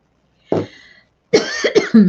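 A single cough, a pause, then a quick burst of several harsh coughs close by.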